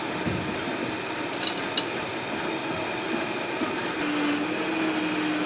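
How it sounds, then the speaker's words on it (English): A high-powered blender purees apples and pears into a smoothie during a cooking demo for fifth graders, a steady loud whirring drone with faint clicks, no voices over it. "using a high-powered machine here. Hopefully we can get this to a nice, juicy puree."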